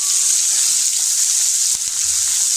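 Finely chopped onion sautés in a pan for Maharashtrian pithla, giving off a steady, bright, close sizzle with a faint clink near the end.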